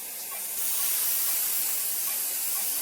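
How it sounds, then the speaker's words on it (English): An airbrush sprays lacquer-thinned paint onto a 1:25 scale 1966 Oldsmobile 442 model car, a steady close hiss starting abruptly and holding constant. "my mixture has been loaded up in my airbrush"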